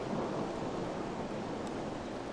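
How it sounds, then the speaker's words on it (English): Thunder rolls as a dense, continuous rumble lasting a couple of seconds, filling the scene with a broad roar like a storm. "Thunder and lightning."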